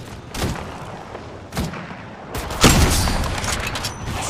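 Gunfire in the Apex Legends battle royale game: sharp bursts of shots at close range, with a dense, heavier volley near the end that keeps rumbling to the finish.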